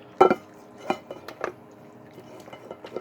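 A spoon scrapes and clinks against a dish as sauce, cheese, steak, onions and whole wheat pasta are mixed, giving a few sharp knocks followed by softer scattered stirring, close by with no talking.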